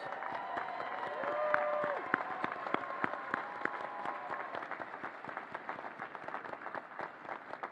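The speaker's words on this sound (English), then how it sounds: "Let's give them a big round of applause." A commencement audience claps loudly and steadily in a large hall, with a dense wash of applause and a few sharper claps standing out, plus a brief tonal sound early on.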